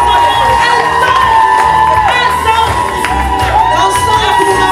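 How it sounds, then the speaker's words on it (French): Congregation at a church gathering bursting into loud cheering, whoops and shouts with clapping mixed in, a dense, energetic roar of many voices sustained throughout, close and intense. "s'il vous plaît, des applaudissements intenses"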